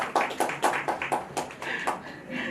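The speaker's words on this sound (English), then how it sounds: "Can we clap to that before the question?" A small group of people clapping at an official launch event, a steady run of distinct claps, fairly close and moderately loud, about two seconds long with faint voices underneath.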